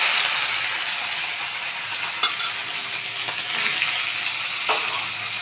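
Onions and green chilies sautéing in a pan for chapati masala: a steady soft sizzle with occasional scraping stirs and clicks, close and continuous, with no talking.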